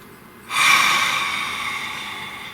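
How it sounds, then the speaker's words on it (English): One deep breath is drawn in sharply and close, starting abruptly and trailing off slowly as a long airy rush. "Nice deep breath, please."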